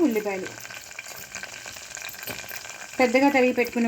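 Green chillies and chopped onions sizzle steadily in a hot pan as they are stirred, with a voice speaking briefly at the start and end.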